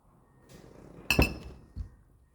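Beer glasses clink together in a cheers over a premium lager: two bright, close chinks a moment apart, then a softer knock, with quiet room noise around them.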